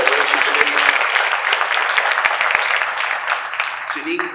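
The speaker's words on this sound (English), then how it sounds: "if we could give them a round of applause" Loud, dense applause from an audience at an elementary school's 50th anniversary celebration, a continuous close roar of many hands that tapers slightly near the end, with a voice emerging faintly at the close.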